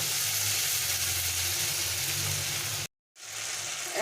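Spice paste of coriander powder and ground spices frying with a splash of water in a pan for Bengali-style bhindi do pyaza: a loud, continuous close-up sizzle that cuts out briefly, then resumes.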